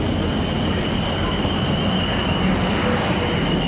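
A train pulling into a station on the way to Eastleigh, a continuous rumbling of wheels and motors with a steady high-pitched tone, fairly loud and close, with no one speaking.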